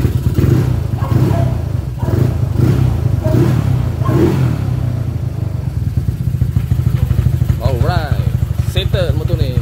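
A Yamaha Nouvo S scooter engine idles and revs steadily with a rough, buzzy drone, rising in a few pulses, then settles into a fast, even putter.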